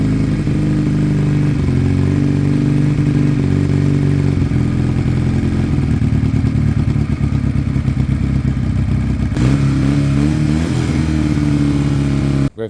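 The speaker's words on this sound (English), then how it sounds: "Revs went up again there." A Sinnis Cruisestar motorcycle engine idles steadily and loudly up close with a mechanical clatter, then the revs climb and waver near the end before the sound cuts off abruptly.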